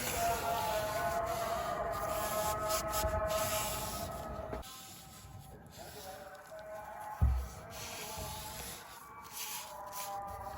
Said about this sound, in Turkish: Azıcık yağ çöz sıkıyorum. Sonra kazıyorum.